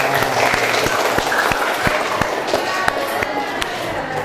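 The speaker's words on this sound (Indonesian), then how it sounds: "Tepuk tangan buat kita semuanya." A classroom group of teacher trainees claps together in a steady, dense burst of applause lasting throughout, fairly loud and close, with scattered sharper individual claps standing out.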